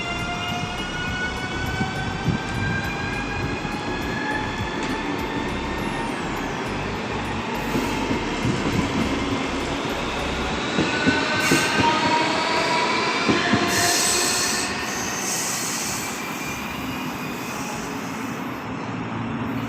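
Interior ride on a Moscow monorail train, a steady rolling rumble with rising and falling whining motor tones and occasional squeals, continuous throughout without voices.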